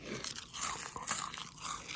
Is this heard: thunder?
no